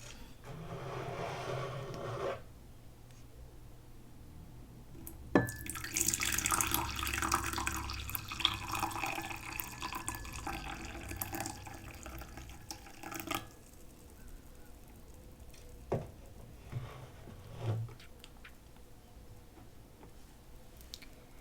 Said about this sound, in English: pour myself some of this tea that's been steeping for well over 5 minutes now